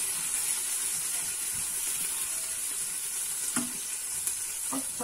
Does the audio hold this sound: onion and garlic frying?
yes